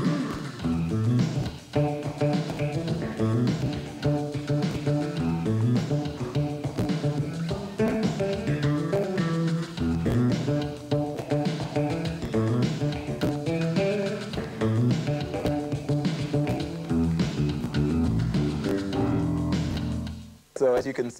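Fingerstyle electric bass playing a busy, guitar-like melodic part over a steady drum groove, continuous and close, ending with a brief stop.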